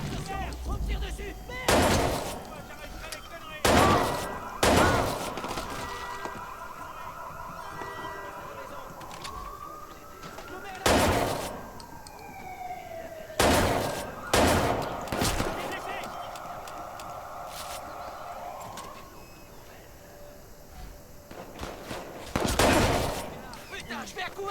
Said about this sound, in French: Attention, on me tire dessus.